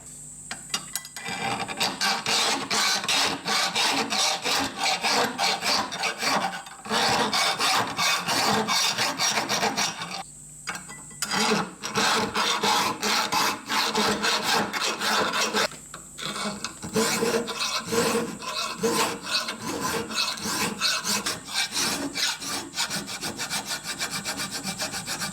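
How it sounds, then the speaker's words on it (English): Hand file rasping steadily across a hard cast iron part for a Stuart Turner 10H model steam engine, loud repeated scraping strokes with two brief pauses and no talking. "That cast iron is really super hard and is killing my file"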